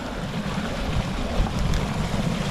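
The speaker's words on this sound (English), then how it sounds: "the water starts spilling down, filling each pool" A backyard pond waterfall sends water spilling down over rocks into a series of pools, a dense, steady rushing roar that stays close and constant, with no voices.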